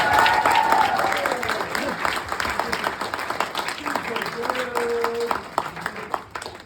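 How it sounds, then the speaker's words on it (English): A wedding crowd claps for the best man, Lincoln, at a bungalow reception, a dense burst of applause that thins over several seconds while voices and cheers carry on beneath it. "can we please have a round of applause for the main man, Lincoln, for everything you've done this afternoon"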